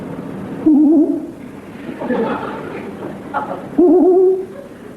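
Two wavering hoots, like an owl, sound at about one and four seconds, with quieter murmuring and rustling between them over a soft background.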